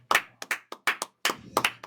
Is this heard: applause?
yes